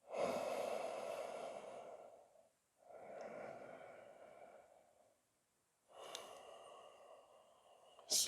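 Slow, deep breaths during a yoga flow: three long exhales, each followed by a quiet gap, heard close and alone.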